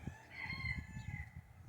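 A rooster crows among a flock of farm chickens, one drawn-out cock-a-doodle-doo with clucking and low scratchy farmyard noise underneath.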